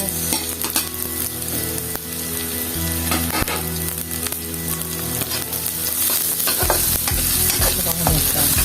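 Sliced onion sizzles in a pan with garlic and is stirred continuously during Filipino home cooking, the frying loud and close with a brighter crackle toward the end.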